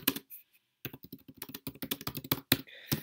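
Computer keyboard typing in rapid irregular bursts of close, crisp key clicks, with a brief pause early on and no talking.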